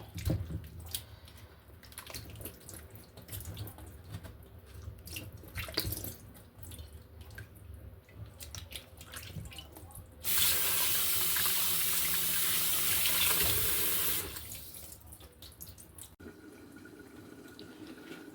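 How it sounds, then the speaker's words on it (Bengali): Fish pieces being rinsed under a running kitchen tap, with a steady rush of water that swells loudly for a few seconds in the middle amid lighter splashing and handling noise before and after. "এটা হচ্ছে আমি ভালো করে ধুয়ে পরিষ্কার করে নেব"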